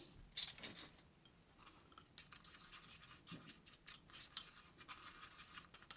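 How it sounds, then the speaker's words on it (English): A utensil stirs Indian healing clay mixed with apple cider vinegar in a small bowl, making quiet, close scraping and swishing strokes in an irregular rhythm, with no talking. "I'm just mixing it up so I can get a nice smooth consistency."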